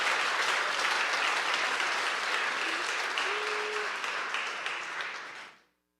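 An audience claps steadily in a dense wash of applause that holds for several seconds, then fades away and stops.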